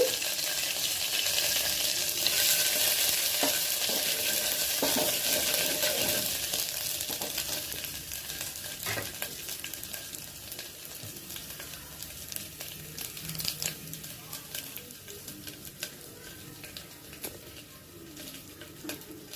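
Green chilli and cumin tempering sizzling and frying in a pan on low heat, a steady crackling hiss that is loudest early and then settles, with occasional stirring clinks.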